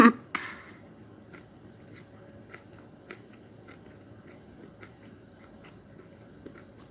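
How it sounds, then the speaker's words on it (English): Someone crunching food while eating, close to the microphone, with a louder bite at the start and then faint, irregular crunches spread over several seconds. "guys, I'm sorry about the crunching."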